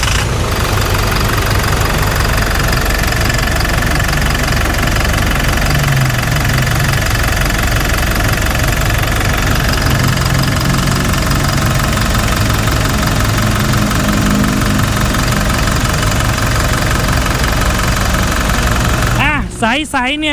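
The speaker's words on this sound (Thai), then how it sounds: "ฟังเสียงเครื่องยนต์กันหน่อย" A Toyota Fortuner Legender 2.4 diesel engine running at a steady idle, close and loud with a continuous rough knocking rumble throughout, ending with a brief handling noise.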